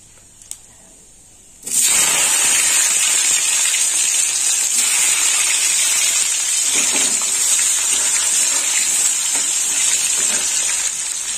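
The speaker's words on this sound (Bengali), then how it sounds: "এই তেলে আমি টমেটো দিয়ে দেবো।" Tomatoes hit hot oil that already holds fried tempering spices. After a near-silent moment, a sudden loud, steady hissing sizzle bursts out and stays strong and close to the end.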